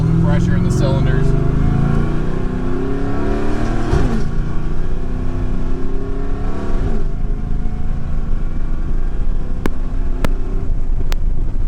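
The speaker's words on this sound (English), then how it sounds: "just giving it a little bit of gas so it's building pressure in the cylinders" Car engine being given light throttle to build cylinder pressure, a steady low rumble with rising harmonic tones near the start, continuous and close, with a voice talking over it and a few sharp clicks near the end.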